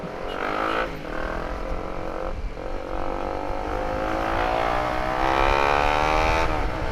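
A loud Honda CBR150R Facelift motorcycle with a WRX Trioval K3 aftermarket exhaust revs and accelerates steadily, its exhaust note rising in pitch through several gear changes, close and continuous.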